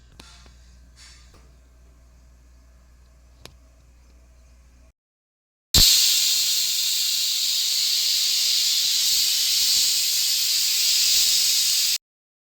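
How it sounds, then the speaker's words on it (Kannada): A pressure cooker cooking lentils for sambar lets out a loud, steady whistling hiss that starts abruptly and holds for about six seconds, after a quieter stretch of faint kitchen clicks and background hum. "ಇವಾಗ ಇಷ್ಟನ್ನು ಕೂಡ ಒಂದು 2 ರಿಂದ 3 ವಿಷಲ್ ಕೂಗಿಸ್ಕೊಂಡು ಬರೋಣ ಬನ್ನಿ"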